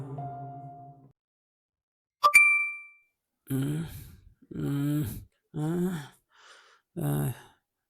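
A single bright phone message notification ding rings out cleanly and decays quickly, after which a person sighs and speaks in short excited bursts nearby.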